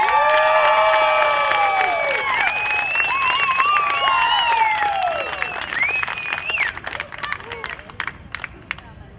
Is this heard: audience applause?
yes